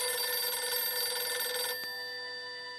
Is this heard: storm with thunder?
no